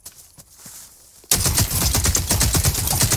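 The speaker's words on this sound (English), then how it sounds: "a lot of shooting this way" Rapid automatic gunfire in The Cycle: Frontier, a dense loud burst of repeated shots starting abruptly after a quiet stretch and continuing steadily to the end.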